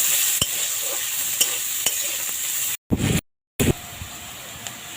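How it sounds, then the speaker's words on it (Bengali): Chopped onion frying in oil, a steady crackling sizzle with regular spoon-stirring strokes, briefly cut out by two short gaps of silence before the sizzle resumes. "এবারে দেবো পেঁয়াজ কুচি। পেঁয়াজটা ভালো করে ভেজে নেব।"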